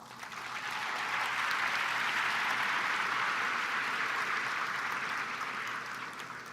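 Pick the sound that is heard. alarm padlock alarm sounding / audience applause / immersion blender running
audience applause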